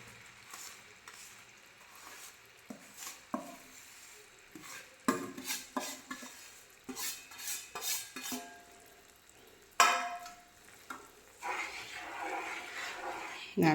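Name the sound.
stirring bread halwa in a pan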